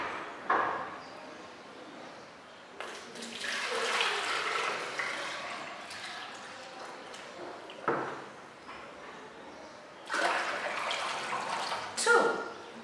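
Water is poured from a jug into a bucket in a few separate splashing, rushing bursts, each lasting a couple of seconds with quieter gaps between them.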